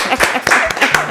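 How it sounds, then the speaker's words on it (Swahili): Audience at a hospital anniversary celebration clapping briefly, a few quick claps close by, mixed with a voice talking over them. "Simtupigie hata makofi jamani."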